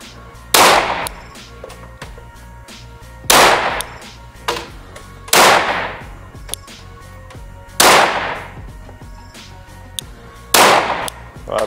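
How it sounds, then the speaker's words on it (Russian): Five sharp gunshots at a practical shooting range, spaced a few seconds apart, each a loud crack with a short echoing tail, amid quiet background. "И повторяй 5 выстрелов аккуратно."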